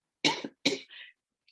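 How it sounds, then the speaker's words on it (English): A person coughs twice in quick succession, close and loud, followed by a softer throat-clearing breath, a lingering post-COVID cough. "this is my post-COVID cough"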